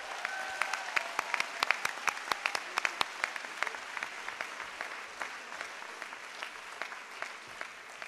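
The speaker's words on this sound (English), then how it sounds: "Let's give a big round of applause for all of these employees for their continuous service" An audience at a convocation gives a long round of applause for employees, many distinct claps ringing out over a steady bed of clapping that gradually thins.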